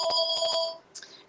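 A phone rings with an electronic ringtone during a telemarketing call, two close loud bursts of steady tonal ringing before it stops, followed by a faint short chirp.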